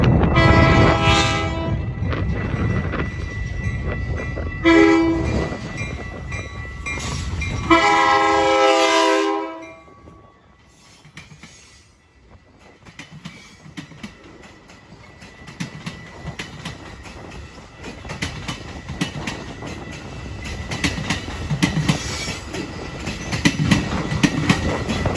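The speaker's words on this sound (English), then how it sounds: "On May 2nd, we headed to Roundout. Here's an inbound Metra." An inbound Metra commuter train at Rondout sounds several loud horn blasts up close, then rumbles and clatters past on the rails, fading and swelling again, with no voices.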